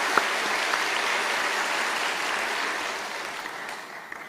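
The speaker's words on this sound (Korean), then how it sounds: "우리 귀한 두 분의 권사님께 큰 박수" Steady, dense applause from a church congregation during a Sunday service, sustained and fairly loud throughout, tapering slightly toward the end.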